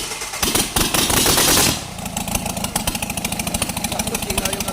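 An overhauled Mitsubishi 4D56 turbo engine runs close by. A loud burst of noise in the first two seconds gives way to a steady, fast, rhythmic chugging idle.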